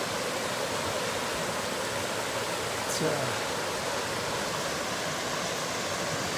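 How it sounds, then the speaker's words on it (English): A river flows steadily past on a trail, a broad, constant rushing wash that stays loud and even throughout, with a brief word spoken over it. "here's a nice view of the river I've been shadowing most of the day"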